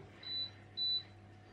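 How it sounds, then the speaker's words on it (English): Two short electronic beeps from an oven timer being set, thin and high-pitched, with a brief gap between them, in a quiet kitchen. "Need to put a timer on for their dinner"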